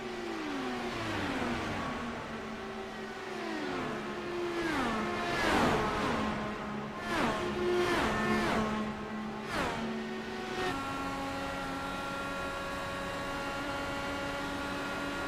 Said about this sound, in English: You can hear that gearbox working as he makes his way